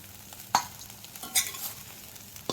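Soybean chunks fry in a pan with a faint, steady sizzle, broken by a few sharper stirring scrapes and clinks, with no talking.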